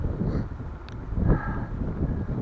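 Steady wind buffeting a microphone while cycling toward Artsyz with a slight tailwind, a continuous low rumble with gusty swells and no speech.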